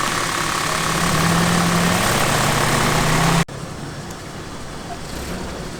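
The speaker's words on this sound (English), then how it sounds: "Jeep CJ3B with a petrol Hurricane engine, 1962 vintage" A 1962 Jeep CJ3B's petrol Hurricane engine idles with a steady, throaty rumble up close, then the sound cuts off abruptly partway through, leaving quieter background noise.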